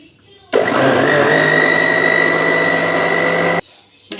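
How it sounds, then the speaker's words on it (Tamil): A blender whirs loud and steady for about three seconds as it churns cream with ice water into butter. It starts and stops abruptly, with a constant motor whine and no talking. "இப்படி நல்லா அடித்து எடுக்கும்போது நல்லா இங்கே பாருங்கள் வெண்ணெய் வந்துருச்சா பாருங்கள்"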